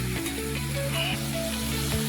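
Phodni (tempering) sizzles in a pot of vegetable urad dal with a loud, steady, continuous frying hiss throughout, close up, with no talking.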